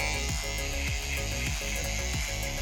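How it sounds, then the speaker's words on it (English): An electric hair trimmer hums steadily and close during a high taper skin fade, its buzz loud and continuous with faint rhythmic dips as it passes along the head. "And then I'll take a trimmer"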